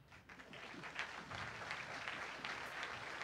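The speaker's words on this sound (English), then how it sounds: "if you are married, by a round of applause, please clap." A crowd claps steadily, a dense patter of applause that swells slightly and holds, fairly distant.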